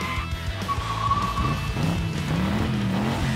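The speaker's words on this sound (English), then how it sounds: "Drop your car and watch it go!" A Boom City Racers toy car, ripped and dropped to race, gives a close, brief whirring buzz of its spinning flywheel motor and wheels, with faint rattling noises.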